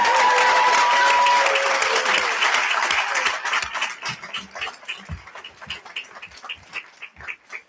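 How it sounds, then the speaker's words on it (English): A graduation crowd at Daniel Hand High School applauds the educators, a loud, dense burst of clapping with a few cheers and whoops that tapers after three seconds into scattered, separate claps from a handful of people. "How about a round of applause for all the educators at Daniel Hand High School?"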